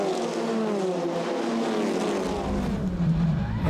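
Honda Civic Type R touring cars race at Spa-Francorchamps, their loud engine note rising and falling as they pass under braking and acceleration.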